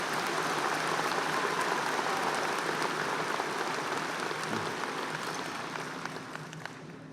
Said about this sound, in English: Please give Samuel a round of applause